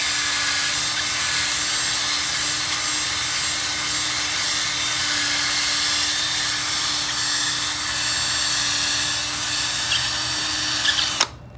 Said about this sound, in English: we'll take our drill and our file here, and we'll just give it a good little ream out